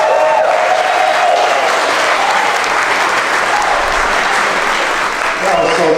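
An audience at a retirement party claps loudly and continuously, dense applause filling the room with a few cheers.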